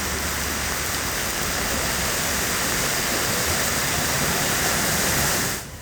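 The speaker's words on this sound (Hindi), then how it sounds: "कहीं मूसलाधार बारिश ने बर्बादी मचा रखी है तो कहीं बारिश के बाद आई बाढ़ की विनाश लीला दिखाई दे रही है" Torrential monsoon rain and floodwater roar as a loud, dense, continuous wash of noise, steady throughout and cutting off abruptly at the very end.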